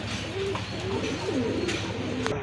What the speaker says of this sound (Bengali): এখানে কিন্তু এক জোড়া গিরিবাস কবুতর আছে